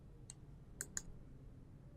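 Three sharp, quiet computer mouse clicks, one single and then a quick pair, against a near-silent background.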